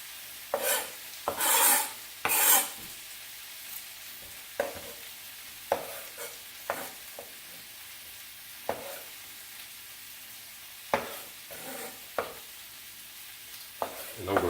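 Sausage, peppers and tomatoes are stirred in a hot pan, with repeated scraping strokes in irregular bursts over a faint, steady sizzle, close up and without talking.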